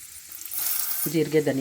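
Fenugreek, cumin and coriander seeds frying in a pan for chutney, starting quiet and then breaking into a louder crackling sizzle with a faint tonal ring partway through, close and brief.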